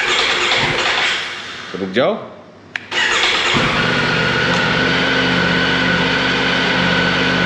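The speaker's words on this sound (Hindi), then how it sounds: "करते हैं इस बाइक को स्टार्ट।" A 2024 Triumph Tiger 900 Rally Pro motorcycle cranks over and catches, settling into a steady, close rumbling idle that carries on to the end, with someone talking over the start.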